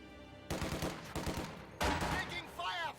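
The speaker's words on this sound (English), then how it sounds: "Taking fire from Ivan" Gunfire in a real-time strategy video game: a rapid burst of close, punchy shots, followed by a louder volley of firing mixed with game sound effects and a brief announcer-like voice.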